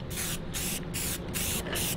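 A paint spray gun hisses steadily against a board on a trade show enclosure, a loud continuous spray that pulses in short repeated passes with brief dips between strokes.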